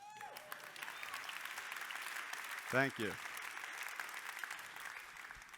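A keynote audience at a large tech conference claps in a soft, distant wash of applause that continues under a brief spoken thanks from the stage.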